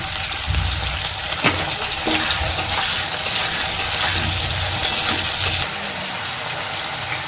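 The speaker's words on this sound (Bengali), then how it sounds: "এবার আমি কপিগুলো ভেজে নিচ্ছি" Cauliflower florets sizzling in hot oil in a home kitchen pan, a steady loud crackling hiss with occasional stirring clatter and scrapes, no voices.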